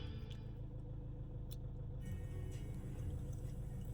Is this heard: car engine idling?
yes